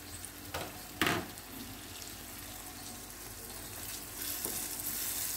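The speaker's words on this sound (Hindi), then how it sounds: "इसे मिक्स कर देंगे अच्छी तरह से।" Red chilli powder, turmeric and salt being stirred into masala frying in a pan: a low, steady sizzle with a couple of sharp scraping strokes early on and a brief clink, fairly quiet throughout.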